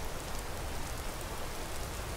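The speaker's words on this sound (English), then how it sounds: "The rain is back." Steady rain in Skyrim patters down in a soft, continuous hiss, quiet and unbroken.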